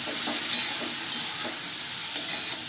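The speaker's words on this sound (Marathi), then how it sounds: "आता इथे छान परतून घेऊया आपण दुधी भोपळा" Peeled, chopped bottle gourd sautés in a pan with turmeric, giving a constant bright sizzle with occasional soft stirring clinks and scrapes beneath it.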